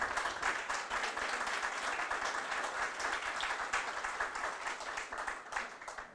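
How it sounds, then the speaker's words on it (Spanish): Sustained audience applause from people seated at a panel event in Valparaíso, a dense, steady wash of many hands clapping at moderate level throughout, with no talk over it. "Un aplauso"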